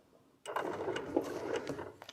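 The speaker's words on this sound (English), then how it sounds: "Pulled up the bobbin thread and going to stitch a couple of stitches" Sewing machine stitching a couple of small stitches while piecing a quilt block, a steady close-up mechanical whir starting after a short quiet moment and running continuously to the end.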